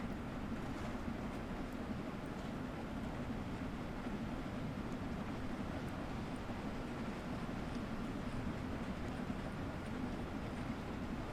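Steam locomotive in Train Sim World 2 accelerating with the regulator fully open, giving a dense steady chuffing roar and rumble without pause and no voices.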